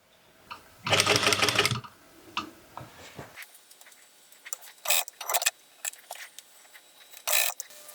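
A sewing machine stitches a skirt zip in loud, short bursts of rapid mechanical ticking, one long run followed by several brief spurts separated by quiet pauses.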